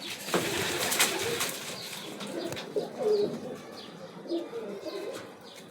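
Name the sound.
Lakkha pigeons cooing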